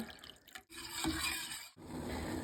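Water, about 200 ml, poured into red juice in a pot: a soft trickle and splash with brief scraping, fairly quiet and close, stopping short near the end.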